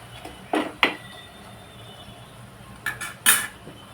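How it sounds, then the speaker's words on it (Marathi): Metal clinks and clatters as a lid is set onto a cooking pan of onion and tomato for a mixed vegetable sabzi, a few sharp, close taps in two pairs over a quiet kitchen background. "आणि आता याच्यावर एक झाकण ठेवते."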